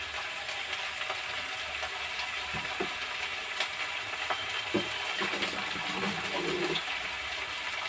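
Chopped ivy gourd pieces sizzle steadily in a hot pan for a Telugu-style ivy gourd curry, a constant frying hiss with a few soft scrapes and clicks of stirring throughout.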